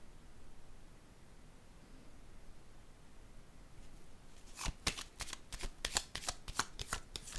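A tarot card is handled and laid on a table: after a quiet stretch, a rapid series of sharp card flicks and slaps patters close by, loud against faint background hiss.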